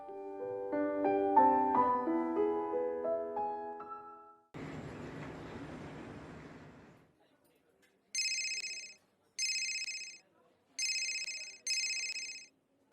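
A mobile phone rings in short repeated bursts of electronic tones after some music and noise, four rings heard clearly and alone.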